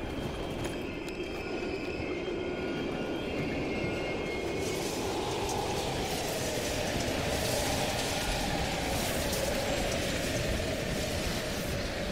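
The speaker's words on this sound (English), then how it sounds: "We can use a train to slip past." A train rumbles past in an abandoned station in Call of Duty: Black Ops Cold War, a loud continuous roar of wheels and carriages that swells and holds, with no talk.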